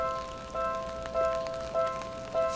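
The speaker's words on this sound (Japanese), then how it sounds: "雨ですね。" Steady rain patters outside at the Shinjuku Hilton, a soft, even hiss with faint recurring tones over it and no voices.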